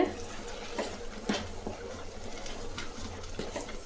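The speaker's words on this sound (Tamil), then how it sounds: "இதுக்கு புளி கம்மி கம்மியாக ஊற்றணுங்க" Tamarind water being poured into a garlic and curry leaf kuzhambu, a continuous liquid splash with a few clinks of a vessel, moderately loud and close.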